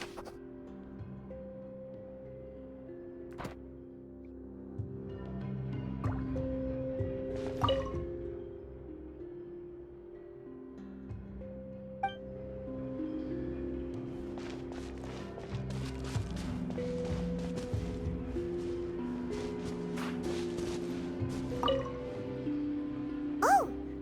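Water sitting in an important-looking basin in the video game Genshin Impact, heard as soft drips and trickles over a steady ambient music bed, fairly quiet and continuous.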